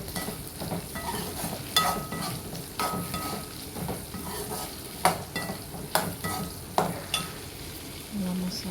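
Small onions sautéing in a pan for a sardine curry, a continuous close sizzle with a spatula scraping and stirring in repeated strokes and a few sharp knocks against the pan.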